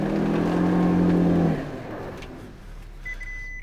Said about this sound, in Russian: Я жму педаль в пол и, ну, пытается повышать обороты.